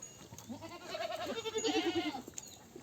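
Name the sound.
goat bleating on a goat farm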